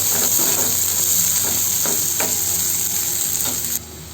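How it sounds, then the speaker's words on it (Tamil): Small chopped onion sautés with mustard seeds and cumin, a steady hissing sizzle broken by a few stirring clicks, and the sound drops off sharply near the end. "கடுகு பொரிஞ்சதும் ஒரு சின்ன வெங்காயத்தை பொடி பொடியாக கட் பண்ணி வச்சுருக்கேன், சேர்த்துக்கலாம்."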